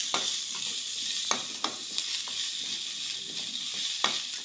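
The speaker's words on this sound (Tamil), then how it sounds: "அடுத்ததாக பூண்டையும் கருவேப்பிலையும் போட்டுருங்க." Garlic and curry leaves frying in a pan over a medium flame for a mutton curry, a steady close sizzle broken by a few spoon scrapes as they are stirred.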